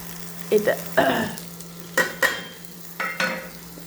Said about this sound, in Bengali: এটা আমি একটু ভাজা ভাজা করে নেব, বেশিক্ষণ ভাজবো না